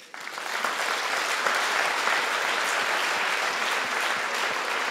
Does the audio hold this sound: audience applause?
yes